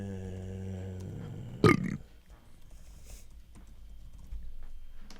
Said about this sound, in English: can you keep that burp in there?